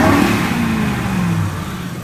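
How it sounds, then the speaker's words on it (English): The engine of a 2005 Ford F-150 pickup revs up close by, a loud steady mechanical drone that eases down slightly near the end. No one speaks. "This engine sounds great when revved."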